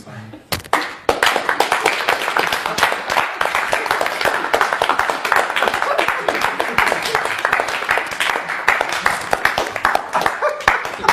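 An audience claps and applauds in a live show, a dense patter of many hands starting abruptly and continuing steadily, with a voice speaking over it at times.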